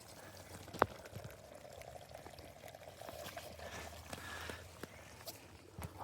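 Water flowing through a leaking pipe connection at low pressure, a faint, steady trickling and dribbling with a single sharp tap early on, fairly quiet throughout.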